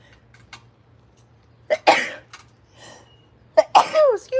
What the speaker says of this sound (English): I don't know why I sneezed in my hand